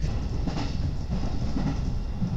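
A JNR 213 series electric train runs on the Ako Line between Himeji and Okayama, heard from inside as a steady low rumble with rhythmic clickety-clack of wheels over rail joints.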